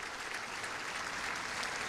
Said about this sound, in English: stadium erupts in applause